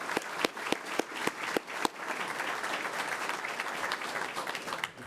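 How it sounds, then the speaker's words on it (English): A few sharp individual claps open, then a crowd at a county commission meeting joins in with sustained applause for an award recipient that carries on evenly to the end. "let's give her a round of applause"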